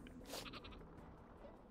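Sheep bleats from the Worms WMD video game, a short burst of harmonic calls early on over steady game background sound, fairly faint with no voices.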